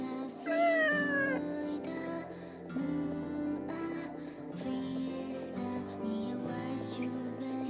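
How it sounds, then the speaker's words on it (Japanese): A black cat meows in the video game Nights of Azure, a few mewing calls rising over a steady background of game music, with no talking. "こいつはいつもの黒猫だな。"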